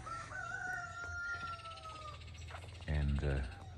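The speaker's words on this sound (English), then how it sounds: "There's lots of chickens and turkeys around here." A rooster crows near a farmyard of chickens and turkeys, with a drawn-out call followed by clucking, under and alongside someone talking.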